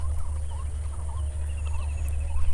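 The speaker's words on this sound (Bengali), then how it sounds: "পাখির ডাক" Scattered bird calls and chirps ring out over a steady low rumble, continuing throughout at moderate loudness.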